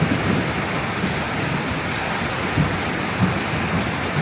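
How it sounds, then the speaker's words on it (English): Heavy rain pours steadily through a thunderstorm during Thailand's rainy season, with low thunder rumbling beneath the dense downpour and a few louder swells; nobody speaks. "I do love lightning and thunder."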